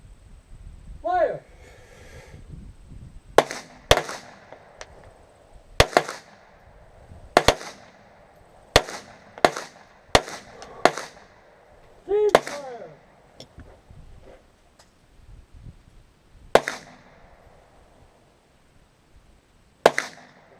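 Gunshots from a shooting session, about a dozen sharp cracks spaced irregularly over twenty seconds, some near and loud, others softer, with a voice calling out between shots.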